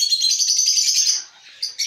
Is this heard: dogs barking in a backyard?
no